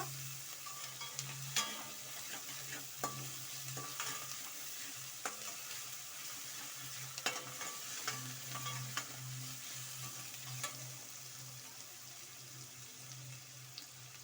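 Chicken sizzles quietly in a pan while a utensil repeatedly scrapes and clinks against it, stirring at an uneven rhythm.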